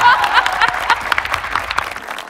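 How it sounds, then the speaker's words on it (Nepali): An audience at a dance audition show applauds loudly, a dense burst of clapping near the listener that gradually thins and fades over a couple of seconds. "एकचोटि जोरदार ताली मेरो लागि।"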